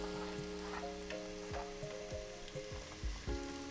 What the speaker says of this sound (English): throw our onion in the oil. Oh, you hear that? I know I do. It's a nice sizzle.